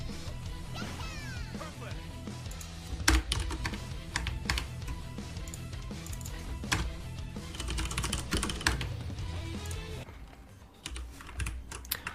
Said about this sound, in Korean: 제가 키보드가 기계식 키보드라서 그래서 좀 소리가 클 거예요